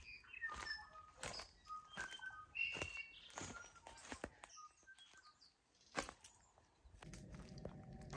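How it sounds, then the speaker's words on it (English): Soft wing flutters and scattered chirps from small birds in a quiet forest, with light patter and an occasional rustle nearby. "You can hear a few birds fluttering around in here"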